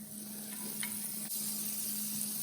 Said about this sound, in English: So you put a chunk of butter on your griddle.